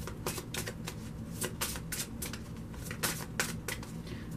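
A Tarot of Dreams card deck being shuffled by hand, a rapid run of crisp riffling flutters and light card slaps repeating close by, with no talking.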